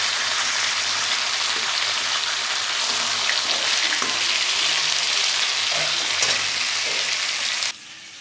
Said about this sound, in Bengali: মাছগুলো ভাজা হয়ে গেছে দেখো